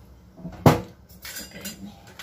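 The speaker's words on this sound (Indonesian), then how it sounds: "Terus kita aduk-aduk. Terus diaduk-aduk." A spoon stirs a sweet iced moss-jelly drink, with one sharp clink against the glass followed by softer scraping and tapping, brief and close.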